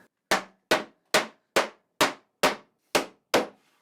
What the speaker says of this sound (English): This one is going to need some mallet.